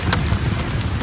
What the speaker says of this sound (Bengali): বাইরে অনেক বৃষ্টি, অনেক জায়গায় অনেক বেশি বৃষ্টি হচ্ছে